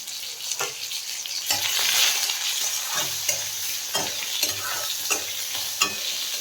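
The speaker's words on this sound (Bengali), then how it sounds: "এবার এটার মধ্যে হালকা লবণ দিয়ে এটাকে ভেজে নেবো" Mango pieces frying in a pan with a pinch of salt, a steady oil sizzle under repeated scraping strokes of a spoon stirring every second or so, close and fairly loud.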